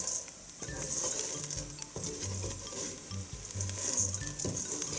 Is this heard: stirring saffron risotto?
yes